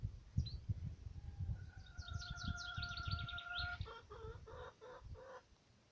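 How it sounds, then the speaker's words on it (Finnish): A chicken clucks in short, rhythmic pulses over low rumbling noise, with thin chirping bird calls sounding in the background. "Yksi kana on näköjään tuolla."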